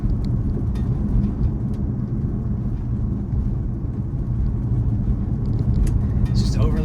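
Cars rush past on a road while a Tesla on Full Self-Driving creeps along slowly, leaving a steady, loud broadband traffic roar and rumble with no clear individual pass-bys.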